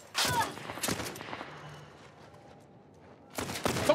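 Gunshots in The Last of Us, a burst of loud cracks early on and another pair near the end, separated by a quiet stretch of faint ambience, close and punchy.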